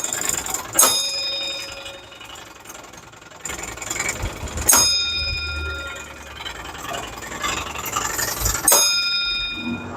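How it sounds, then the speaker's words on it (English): A small alarm bell at a fire station trip board rings three times at regular intervals, each strike bright and ringing out over a low mechanical hum in a quiet room. "We have a small bell over here."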